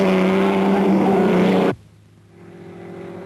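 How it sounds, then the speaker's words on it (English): Race car engines at Le Mans in 1955 scream at maximum revs along the Mulsanne straight, a loud sustained high-pitched drone that cuts off abruptly, leaving a fainter, lower engine hum. "On the Mulsanne straight, the engines still scream up to maximum revs after 23 hours of racing"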